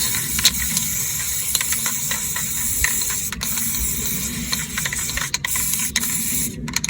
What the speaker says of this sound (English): I will paint with gold spray the base like this.